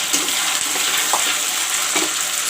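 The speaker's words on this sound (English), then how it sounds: "and then I will put the masala in the oil to brown." Masala browns in hot oil for an egg curry, producing a steady, even sizzling hiss with a few soft stirring scrapes and no voices.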